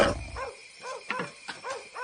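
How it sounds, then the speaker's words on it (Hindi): A dog barks repeatedly in short, yelping bursts at moderate distance in a quiet village home, the barks coming in an uneven rhythm. "इतना क्यों भौंक रहे हो?"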